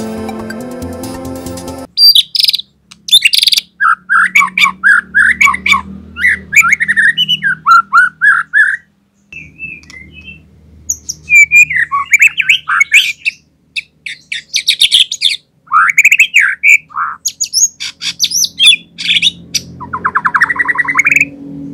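A white-rumped shama sings a loud, varied song of whistles, chirps and squawky phrases in quick bursts, with short pauses between, close and clear.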